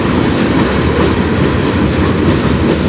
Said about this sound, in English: If they are a slow-moving train, this one's much faster.